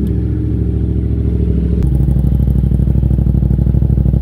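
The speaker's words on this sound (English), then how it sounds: "turn on the bike and let it run for several minutes to let it warm up." A Yamaha MT-07 motorcycle engine idles steadily to warm up, a close, loud, even mechanical throb with a rapid regular pulse and a slight shift in tone partway through, with no talking.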